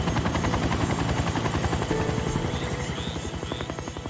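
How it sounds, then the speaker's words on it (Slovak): A helicopter arriving at an aircraft crash site along a coast, its rotor chopping in a steady, rapid pulse that stays loud and close throughout, with a constant engine whine over it and no voices. "keď sme začuli helikoptéru"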